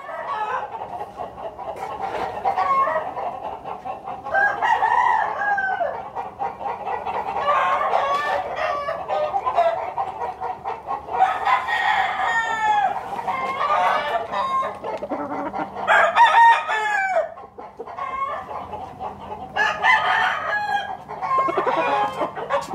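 Several roosters crow and chickens cluck almost continuously, overlapping calls rising and falling at close range, with no talk over them.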